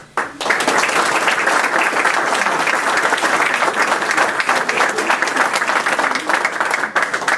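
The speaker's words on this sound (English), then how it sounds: "if everybody could just give a round of applause to both the high school and the vocational high school students" Sustained round of applause from a crowd at a school media center ground-breaking ceremony, honoring high school and vocational high school students; dense steady clapping, loud and close, lasting throughout.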